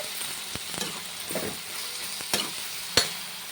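Brinjal fries in a pan with onion and tomato, giving soft intermittent sizzling with a few sharp clinks of stirring against the pan.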